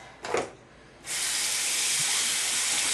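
Tap water runs steadily into a sink during a face-washing routine with black soap, a brief splash early on giving way to a loud, continuous hiss of flow.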